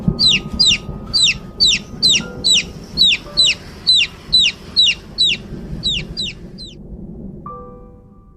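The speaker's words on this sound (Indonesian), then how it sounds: "ada lagi bunyi kayak anak ayam" Rapid series of high, sharp chicken peeps, about fifteen quick chirps in a steady rhythm, close and clear over a low background murmur, fading out near the end.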